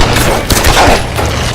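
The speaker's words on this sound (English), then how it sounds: "Ah, gunfire." Rapid gunfire in the video game Tomb Raider Definitive Edition, a loud dense burst of shots with booming reports, close and unbroken.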